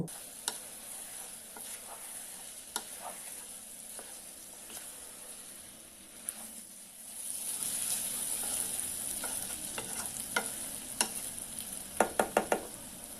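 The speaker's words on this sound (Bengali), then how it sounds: "চালগুলোকে একটু ভেজে নিব" Soaked, drained red rice is stirred and lightly fried in a pan for a chicken and vegetable khichuri; a low sizzle grows louder midway, with sharp spoon clicks and a quick run of scrapes near the end, heard up close without voices.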